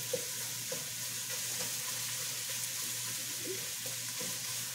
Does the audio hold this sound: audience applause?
no